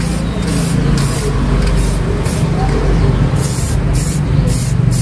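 A spray can sprays in a loud, continuous hiss, broken by brief pauses and bursts, over a low rumbling background.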